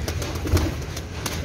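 Domestic pigeons kept for breeding and flying give soft, low, rolling coos close by, a brief murmuring call with a faint repeated rhythm.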